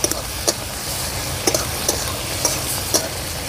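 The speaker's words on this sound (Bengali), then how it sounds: "দিয়ে দেব টমেটো কুচি, একসঙ্গে ভালো করে আমি এটাকে একসঙ্গে কষিয়ে নেব।" Onion and chopped tomato being stirred and sautéed in a pan for an egg curry, a soft steady sizzle broken by several sharp spatula scrapes and taps at irregular intervals, with no talking.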